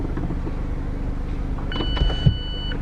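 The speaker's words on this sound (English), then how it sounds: "and you'll see the roof come back down." Electric folding hardtop of a Mazda MX-5 2.0 RF Sport Nav closing, a steady low motor whir inside the car ending with a short electronic beep and a soft clunk as the roof latches.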